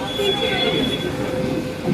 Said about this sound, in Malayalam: ഇത് മൂന്നാമത്തെ മെട്രോ കേട്ടോ മാറിക്കയറുന്നേ